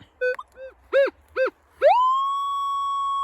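A metal detector gives a few short electronic chirps in quick succession, then a steady high tone that rises and holds, clear and close with no talking, while detecting in the woods.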